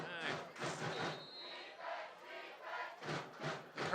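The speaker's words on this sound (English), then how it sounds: "The crowd's into it." Fans cheer and roar at the first home game of a St. Clair Saints high school football game against Cros-Lex after a touchdown, loud crowd noise rising and falling in bursts over several seconds.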